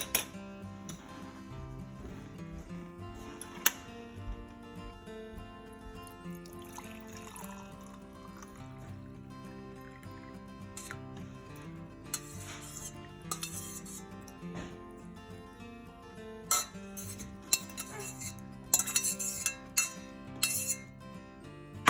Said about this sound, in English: now we're just going to empty it and put it in our mason jar